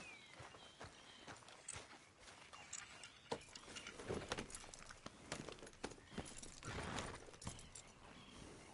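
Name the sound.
horse hooves clip-clopping, from a video game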